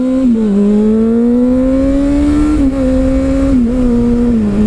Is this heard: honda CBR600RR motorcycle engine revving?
yes